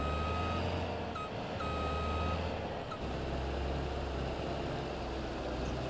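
A combine and header trailer reverse into a field in a farming video game, with steady reversing beeps over a low diesel engine drone; the beeping stops partway and the engine rumble continues.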